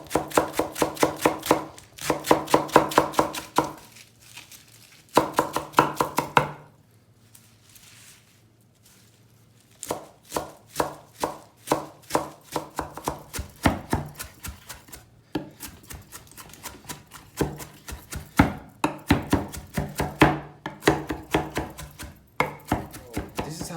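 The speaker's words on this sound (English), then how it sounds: "I should chop them in very small pieces, but I shouldn't destroy them" Fresh herbs for Persian ghormeh sabzi stew chopped with a knife on a board, quick rhythmic bursts of close, crisp thuds separated by short pauses, with no talking.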